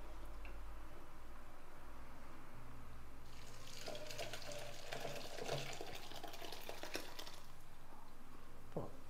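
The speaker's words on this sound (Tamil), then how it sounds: "இப்போ நம்ம இந்த ரசத்தை தூக்கி இதில் ஊற்றிடலாம்." Lemon rasam is poured into a vessel, a soft, steady liquid splash that rises in the middle of the clip and then fades, quiet and close, with no talking.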